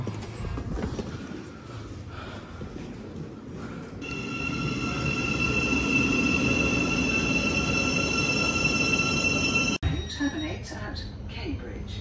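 Rumbling train noise at a station with a sustained high squealing tone from the wheels or brakes, and people talking nearby.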